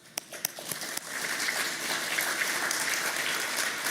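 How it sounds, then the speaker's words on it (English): A few scattered claps start it off, then a large audience breaks into sustained, even applause that fills the rest of the stretch. "Please, a round of applause for yourselves."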